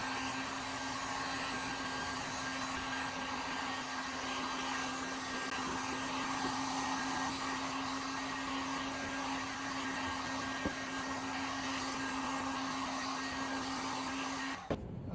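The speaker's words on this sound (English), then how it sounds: "I'm gonna go ahead and apply the heat gun to make it wrinkle even better." Heat gun blowing onto wrinkle-painted Harley Sportster rocker covers gives a steady, close airy roar with a constant motor whine that runs unbroken for the whole stretch before cutting off at the end.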